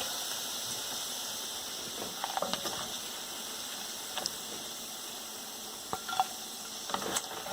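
Paneer cubes fry in hot oil in a pot on an electric stove, a steady close sizzle with occasional louder pops and crackles spread across the whole stretch.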